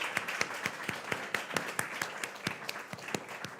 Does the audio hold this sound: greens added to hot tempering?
no